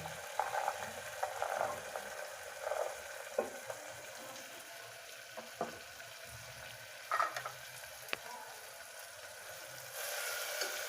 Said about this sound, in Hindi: मटर को तेल में थोड़ी देर ऐसे ही भुनेंगे